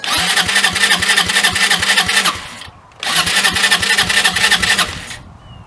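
A Hammerhead 250 SS go-kart engine cranks and starts loudly nearby in two rhythmic chugging bursts, each running a couple of seconds and separated by a short pause.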